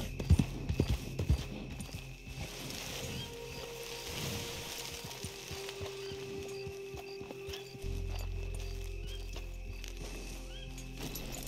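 Horse hooves clip-clop in Red Dead Redemption 2, a steady run of close hoof beats over a low game ambience that gives way to a continuous hum after a few seconds.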